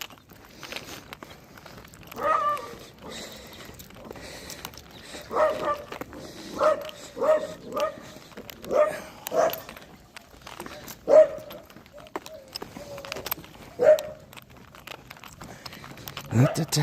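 Dogs bark and yip repeatedly at mid distance during a neighborhood walk near a grocery store, the barks coming in uneven bursts over footsteps and background street noise.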